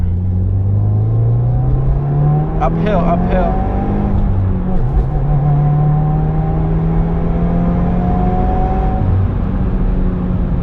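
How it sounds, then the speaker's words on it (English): A turbocharged 268 hp 2018 Subaru WRX engine revs up and accelerates loudly, the drone rising and shifting through gears, with a voice speaking briefly over it. "when you're driving, it revs up so fast"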